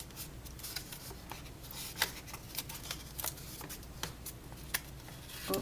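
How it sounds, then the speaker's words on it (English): Paper being folded into a dress shape, with soft crisp rustles and creases in a steady stream, close and quiet, no talking. "you fold it down and you tuck your sides back, and then you flip your sleeves forward"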